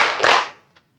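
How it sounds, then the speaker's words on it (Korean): A church lecture audience claps in unison on cue, a quick loud burst of hands that decays fast and ends with one faint stray clap. "박수 3번 시작!"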